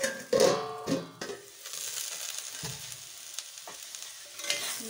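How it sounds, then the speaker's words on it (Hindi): Potato bhujia frying in a pot is stirred with a utensil, giving a few scraping, clattering strokes over a steady close sizzle. "ये भुजिया हमारा लगभग आधा पक चुका है, तो फिर से चलाएंगे"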